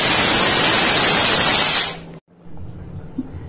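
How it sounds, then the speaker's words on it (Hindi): A pressure cooker on a medium flame cooking moong dal khichdi with vegetables and rice lets out a loud, sustained steam whistle that hisses steadily for about two seconds, then cuts off abruptly, leaving a quiet kitchen background. "मैं इसे मीडियम फ्लेम पर 10 से 12 सीटी आने तक पकाऊंगी"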